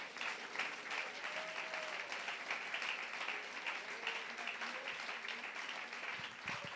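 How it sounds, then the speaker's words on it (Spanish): A church congregation applauds the Lord during a Spanish-language sermon, a broad, sustained wash of clapping heard from a distance with faint cheering mixed in, steady throughout before it thins slightly at the end. "Denles aplauso al Señor"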